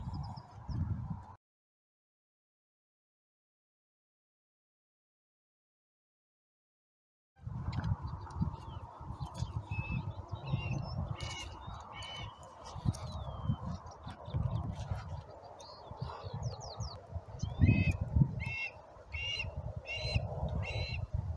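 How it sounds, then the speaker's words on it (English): A hawk perched on a post gives repeated loud, harsh calls in an irregular series outdoors, after an opening stretch of near silence and under steady background noise. "There's a better look of him perched up there, or her perched up there on the post. As you can hear, making a lot of noise."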